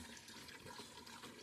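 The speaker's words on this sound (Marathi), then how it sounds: "पाणी भरताय मस्तपैकी" Water running from a household tap in a village and filling a container, a soft, continuous rushing splash heard faintly and alone for a brief moment.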